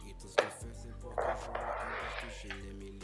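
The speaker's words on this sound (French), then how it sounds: "Je vais encore une fois couper le paquet." A deck of playing cards is cut by hand during a beginner magic trick, giving a sharp snap followed by a papery rustle, with someone speaking over it.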